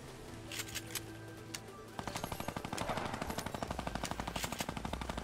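Rapid bursts of rifle gunfire from the battle royale video game Fortnite crack out in quick, steady repeated volleys that grow denser and louder after the first couple of seconds, with no talking over them.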